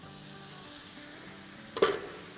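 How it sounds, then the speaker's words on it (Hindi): Onion sizzles softly in hot oil, a steady low frying hiss with one sharper clatter near the end, as of a utensil touching the pan. "एक आप लार्ज प्याज ले लें या 2 मीडियम ले लें। और इसको फ्राई करेंगे।"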